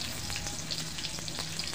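Finely chopped onion sizzling in a little oil on a tava, a soft, steady frying crackle with faint stirring, no talk.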